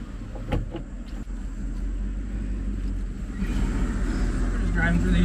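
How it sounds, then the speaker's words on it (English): Chevrolet Silverado wide-body work truck with 3-inch wheel spacers driving through a yard, a close engine drone building steadily louder after a few clicks and knocks, with someone speaking at the start. "Driving through the yard, no big deal."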